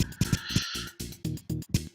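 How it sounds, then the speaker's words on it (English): Harsh, rapid crow caws from the video game DROD RPG, a quick run of close, loud calls in a choppy rhythm with no talk. "Yipes! Crows!"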